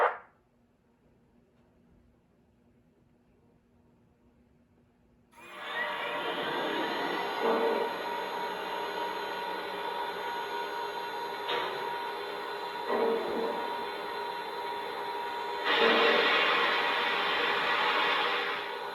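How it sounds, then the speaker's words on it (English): After several seconds of near silence, the sound system of a Lionel Legacy PRR S1 6-4-4-6 model steam locomotive starts up: a steady mechanical rumble with a few brief hissing bursts and a rising surge near the end. "let's fire up this big engine and hear a sampling of the sound features"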